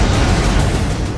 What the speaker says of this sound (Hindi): वो एटम बम जिसके धमाके से दुनिया दहल जाती है